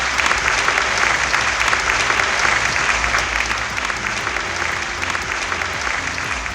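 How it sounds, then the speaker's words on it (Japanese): Sustained, loud applause fills a hall at an awards show, a dense wash of clapping from a large audience that holds steady throughout without any speech. "大きな拍手をお送りください"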